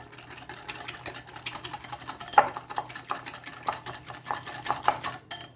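Chicken is stirred and mixed with turmeric and coriander powder in a bowl, giving repeated close clinks and scrapes of a utensil in an irregular rhythm.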